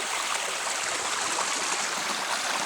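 A river in flood rushes steadily past a spot where a small dam once stood, a dense, close, continuous roar of flowing water with no voices.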